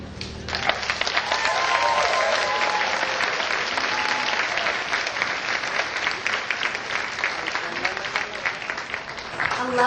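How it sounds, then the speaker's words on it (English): A large audience gives a long, dense round of applause after a singing performance at a formal event, steady and loud for the whole stretch with a few faint cheers mixed in. "Let's give her a round of applause."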